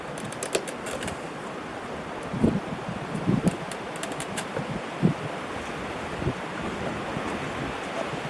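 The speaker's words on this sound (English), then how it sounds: "Man, it's windy." Gusty wind buffets the microphone outdoors during a fuel pump replacement on a 2006 Audi A3, a steady broadband roar with a few louder thumping gusts and no talk.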